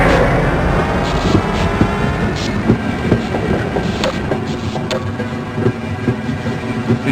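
A train rolling along in the Half-Life: Blue Shift video game, a steady loud rumble with rhythmic clickety-clack wheel knocks carrying on throughout, with no talk.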